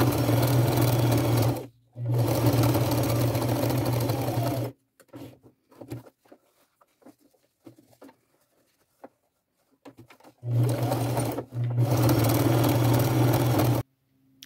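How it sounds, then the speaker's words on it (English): A sewing machine runs in loud, steady bursts as it stitches a seam on cargo jeans, with two long runs separated by a quiet stretch of faint handling taps and rustles. "go forward backstitch, quarter inch seam allowance, sew all the way around"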